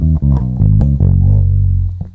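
Electric bass guitar plays a pentatonic lick built from a shape starting on the fourth, a run of distinct plucked low notes with a sustained final note, loud and alone without talk.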